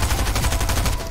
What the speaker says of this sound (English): Let's see how this shotgun is.